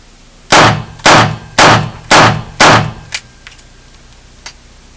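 Five sharp, loud revolver shots from a Taurus 85S ring out at a steady, even pace about half a second apart, each with a short ringing tail, followed by a few faint metallic clicks.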